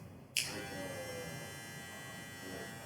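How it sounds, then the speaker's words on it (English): A JRL Onyx barber clipper switches on and runs with a steady, close electric buzz that holds evenly for a few seconds with no talking. "Sound test on the Onyx."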